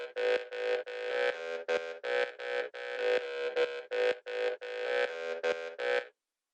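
A rhythmic, pulsing synth bass line through a delay effect, repeated choppy notes with a smeared, echoing tail, playing steadily for several seconds before stopping abruptly into silence.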